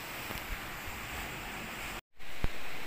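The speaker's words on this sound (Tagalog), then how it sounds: "Lakas ng alon." Strong ocean waves roar as a steady, wind-blown broadband rush, briefly cutting out before returning, with a soft thump near the end.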